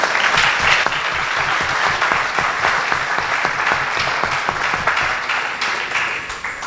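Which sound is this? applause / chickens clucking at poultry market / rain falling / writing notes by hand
applause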